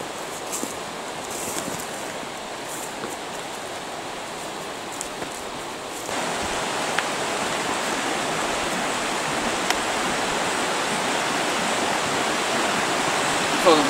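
River water flowing steadily on a forest trail below Old Książ Castle near Wałbrzych, a continuous broadband rush that grows slightly louder and fuller midway, with no talk over it.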